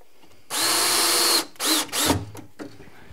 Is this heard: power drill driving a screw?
yes